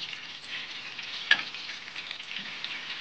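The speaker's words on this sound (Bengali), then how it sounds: "এক পাশ ভাজা হয়ে গেলে আর এক পাশ ভাজবে।" Chicken pieces frying in hot oil in a kadai, a steady close sizzle running throughout with one brief sharp crackle partway through, no talking.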